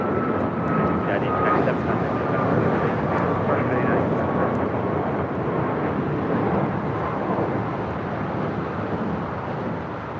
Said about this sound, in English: This is United Airlines 1897 taking off to Chicago O'Hare on a MAX 8.